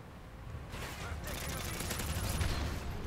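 An MK46 light machine gun in Modern Warfare 3 fires a sustained, fairly faint burst of rapid shots that swells slightly partway through and continues to the end.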